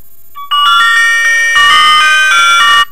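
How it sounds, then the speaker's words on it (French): A mobile phone ringtone preview on a Mobiho Essentiel Le Classic Top 2, a loud electronic melodic tone sequence of repeated bright notes that swells and ends abruptly after a few seconds. "Voilà, vous avez différentes sonneries"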